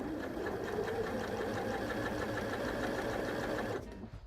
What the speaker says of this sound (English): I'm going to pop my needle down and I'm going to sew until I get just before my strap